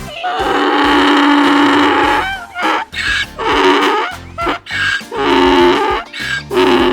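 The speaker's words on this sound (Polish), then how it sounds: "Osioł ryczy." A donkey brays loudly and up close in a run of harsh, honking calls. A long first bray is followed by several shorter, choppy bursts.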